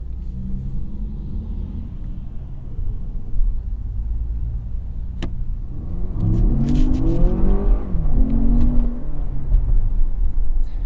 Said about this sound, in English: Sounds like a 4-cylinder.